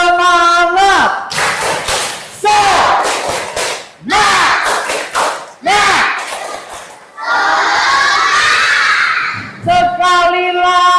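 A class of third-grade pupils performs a rhythmic clapping chant, loud group shouts alternating with bursts of claps in several energetic rounds, with short pauses between them and a teacher's voice at the edges.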